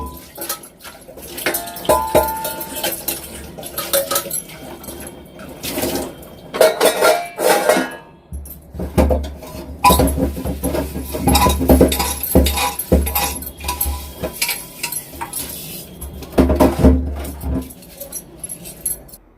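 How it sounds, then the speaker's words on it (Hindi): Dishes and utensils being washed by hand, with steel plates and spoons clinking and clattering in irregular bursts over running water, close and fairly loud throughout. "धुल लेते हैं फटाफट से बर्तन।"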